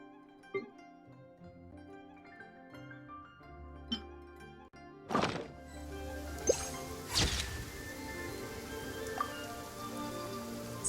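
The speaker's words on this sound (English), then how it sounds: "It's so pretty even when it's raining." Rain falling in the Genshin Impact video game world, a soft steady patter with glassy clinks and drips, set against gentle in-game music with a few louder chimes and swells.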